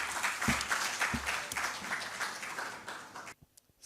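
Steady applause from an audience welcoming the Chief Sales Officer of Dawn Bread onto a stage at a startup event, a dense wash of claps with a few louder thumps that cuts off abruptly near the end.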